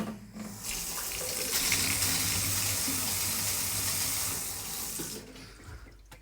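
Water runs steadily from a kitchen tap after the pipes under the sink were repaired and sealed, a continuous close hiss and splash that starts abruptly, holds for several seconds, then cuts off.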